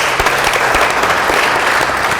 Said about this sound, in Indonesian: Aplaus untuk kita semuanya lah ya